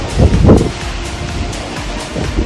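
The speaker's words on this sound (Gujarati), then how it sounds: "હવા રોકાતી નથી, હવાનો પોસ ફૂલ છે." Strong storm wind gusting in Jamnagar, a loud, rough buffeting rush with heavy gusts at the start and continuous roaring noise after.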